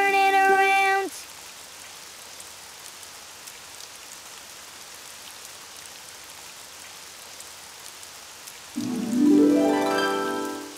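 Steady, soft rain patters throughout in a Daniel Tiger's Neighborhood children's video game, with brief melodic electronic tones at the start and again near the end.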